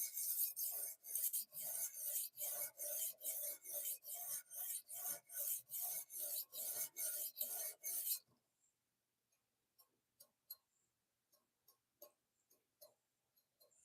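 A knife blade is being sharpened to raise a burr, drawn in about sixteen quick, even rasping strokes, then the strokes stop and a few faint ticks and light scrapes follow in near silence.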